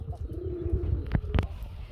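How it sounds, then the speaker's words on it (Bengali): A pigeon coos with a low, rolling warble close by, joined by a couple of short sharper calls near the end, with no speech. "আসলে বন্ধুরা কবুতর না ডাকলে কি চলে?"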